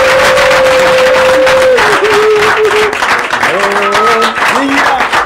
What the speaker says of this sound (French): Ramène-nous l'ambiance. Applaudissements,